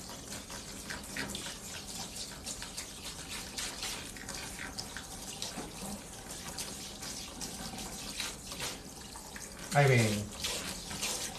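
Tap water runs steadily while rinsing hair dye out of hair until it runs clear, with splashing and a brief louder gush near the end; a voice speaks briefly over it.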